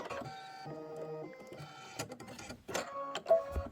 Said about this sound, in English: we're going to stitch out 3 more clovers